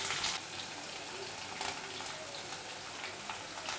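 Mustard seeds, cumin, asafoetida, curry leaves and green chilli hit hot oil over a low flame, giving a soft, steady, even sizzle throughout with no talking.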